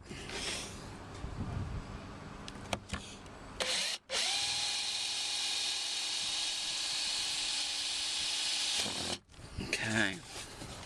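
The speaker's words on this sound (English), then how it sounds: "The tape was just there to protect it when the drill goes in." A power drill whines steadily for several seconds, close and loud, drilling through taped car door trim on a Land Rover Discovery, with brief stops and clicks before and after the long run.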